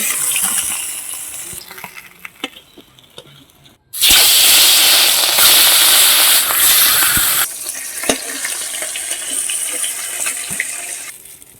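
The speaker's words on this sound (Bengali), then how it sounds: "মাছটা লাল লাল করে ভেজে নিয়েছি এইবার আমি তুলে নিচ্ছি" Fish fried red in hot oil for a Bengali squash-and-fish dish, lifted out of the pan: a close, steady sizzle that suddenly surges into a loud roaring hiss for a few seconds, then settles back to quieter crackling.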